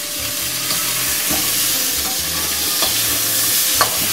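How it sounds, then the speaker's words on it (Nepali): Local chicken seasoned with salt and turmeric fries in a pan with a continuous close sizzle, broken by repeated rhythmic scrapes of stirring. "अब चिकन बिस्तारै भुटिँदैछ।"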